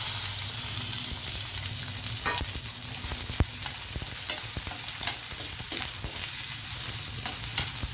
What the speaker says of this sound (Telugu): ఉల్లిపాయలు వేసేస్తున్నాను